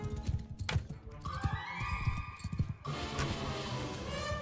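Horse in the Mount and Blade Bannerlord battle game, with hoof thuds and a whinny amid combat clatter, then a sustained high tone and rising commotion.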